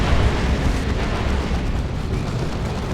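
Dense, continuous barrage of gunfire and explosions from units fighting in the strategy game Dawn of War 2, Space Marines against Chaos, loud and unbroken throughout with no voices.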